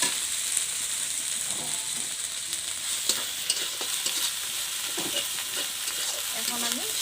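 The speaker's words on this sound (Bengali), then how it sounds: "এখন আমি এইগুলো ভালোভাবে ভেজে নেব অল্প টাইম নিয়ে" Ginger-garlic paste fries in a pan for a village-style Bengali fish curry, a steady close sizzle broken by repeated scraping stirs and occasional sharper clicks of the utensil against the pan.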